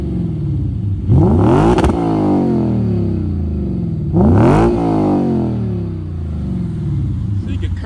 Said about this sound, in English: that is the Apex mid-pipe Tom's Racing full titanium catback exhaust, and this is the Apexi full